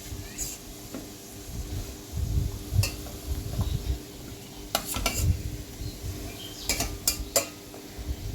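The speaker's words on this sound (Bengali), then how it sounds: "তারপর ঢাকা খুলে নাড়াবো" Potatoes get stirred in an uncovered cooking pot, a spoon scraping and knocking against the metal with soft bubbling and sizzle underneath, punctuated by a few sharp clinks.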